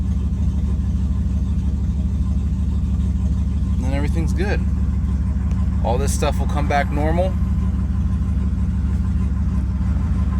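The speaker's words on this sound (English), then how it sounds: "Idling fine. The idle will come down around 650 once it's warmed up." A turbocharged GMC truck engine idles steadily after a cold start with a deep, even rumble throughout while someone talks briefly over it.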